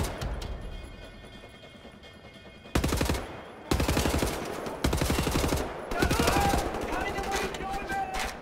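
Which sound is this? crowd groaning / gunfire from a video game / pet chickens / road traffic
gunfire from a video game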